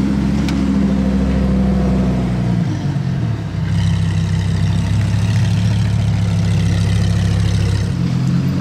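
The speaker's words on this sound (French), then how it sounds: "Démarrage du V10 ici." A Lamborghini V10 engine fires up, its starter cranking into a sharp bark before it settles into a loud, steady idle, all heard up close with no talk.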